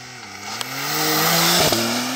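A Porsche launching hard from a standstill on a rough road with its wheels spinning: the engine note climbs steadily and loudly, with a brief sharp break near the end before the revs pick up again.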